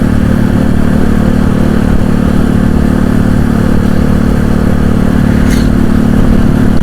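A Bison motorcycle engine runs steadily and loudly up close, a constant mid-pitched drone with a slight clatter and no noticeable revving.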